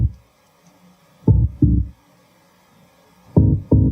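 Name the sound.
synth bass line, pitched down an octave, EQ, saturation, compression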